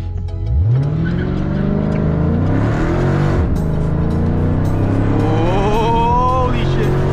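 A 2013 Dodge Charger SRT8, rebuilt, launches from 0 to 100, its engine roaring up through rising revs with a gear shift midway, loud and close throughout.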